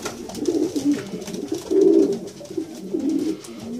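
Pigeons coo repeatedly in a loft where young birds are being readied for flight, low throaty calls rising and falling in overlapping phrases, fairly close and steady with no talking.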